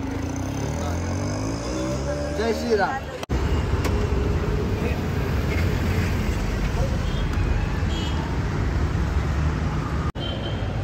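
An auto rickshaw ride through town on the way to a terrace, with a steady engine rumble and road noise running throughout, while people talk loudly over it.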